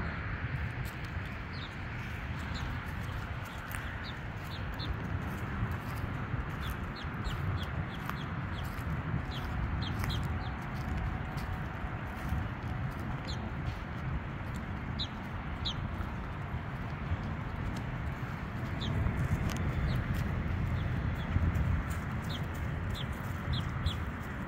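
Birds at a Georgia rest stop cluck and chirp in short, scattered calls over a steady outdoor background, with several chicken-like clucks repeating throughout.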